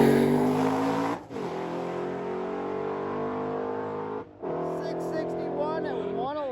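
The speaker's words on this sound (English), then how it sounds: "they're going for it on the burnouts today" A race car at a race week event does a burnout, its engine held at a loud, steady high rev with two brief drops, and tire noise building toward the end.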